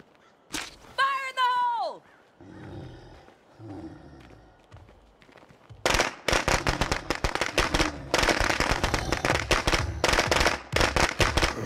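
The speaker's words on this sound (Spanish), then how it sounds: "Va a picar los petardos, vámonos." Firecrackers going off in the video game State of Decay 2, a rapid, loud string of cracking pops after a quieter stretch with a rising whistle and some speech, the bursts continuing densely to the end.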